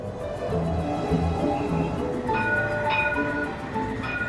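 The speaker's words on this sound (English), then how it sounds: "today I'll be exploring the modern face of Zaragoza by tram." Tram rolling through Zaragoza, steady rumble of the car on rails with rhythmic wheel clicks and occasional higher tonal whines, heard from inside close up.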